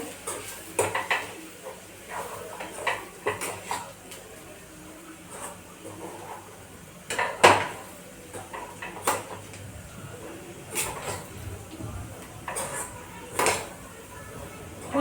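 A spoon scrapes and clinks against a pan as crushed chapati is stirred into masala, giving intermittent metallic taps and scrapes at close range over a faint background hiss.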